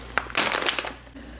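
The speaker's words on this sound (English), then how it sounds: "going to stuff all of these reusable plastic bags inside each other so that they're taking up less room" Reusable plastic bags get stuffed inside one another in a kitchen, giving a short close burst of crinkling and crumpling rustles that fades after about a second.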